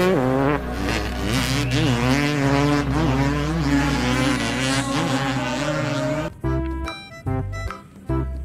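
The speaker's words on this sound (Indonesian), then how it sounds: "Wow, ada motor balap." A racing motorcycle's engine whines with a steady, rising and falling high-pitched buzz, fairly close, before cutting off into brief quieter engine bursts near the end.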